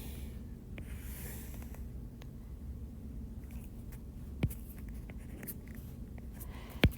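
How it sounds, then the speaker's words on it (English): A pen draws a line on a graph, giving a soft, faint, continuous scratching close by, with a couple of light taps from the pen touching down. "I'm going to go ahead and draw my line."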